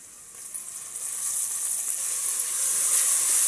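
Goat tripe curry sizzling steadily in a hot pan, a continuous bright frying hiss that grows slightly louder, heard up close with no voices.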